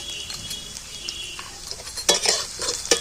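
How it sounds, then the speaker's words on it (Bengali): Two spoonfuls of minced garlic frying in hot oil, a steady crackling sizzle that bursts louder near the end as it is stirred with a spoon scraping the pan. "দু চামচ রসুন কুচি সবটাই দিয়ে দিলাম"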